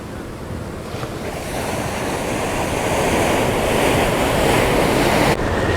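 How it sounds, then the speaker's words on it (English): Loud ocean surf crashes against the cliffs at Sunset Cliffs in San Diego, rushing continuously, building in intensity before cutting off abruptly near the end. "Sometimes the waves get much higher than that."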